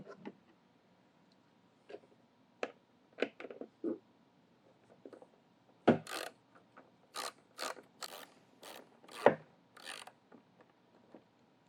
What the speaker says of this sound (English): there are three 10mm bolts that are holding the vac motor housing to the machine. We're going to go ahead and remove those bolts.